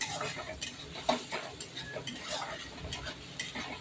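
Onion, curry leaves, cumin and mustard seeds frying in a tempering for Maharashtrian pithla, giving a steady crackling sizzle with soft stirring scrapes and occasional louder pops, close up and with no talking.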